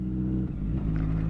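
A 2010 Honda CBR1000RR engine drones steadily while the motorcycle is ridden at a gentle cruise, with a constant close hum and no talking.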